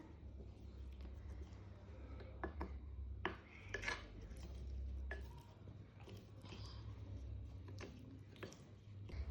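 Small utensils clink and scrape as paneer tikka ingredients are mixed in a miniature toy kitchen. The taps and stirring noises are faint and scattered over a low hum.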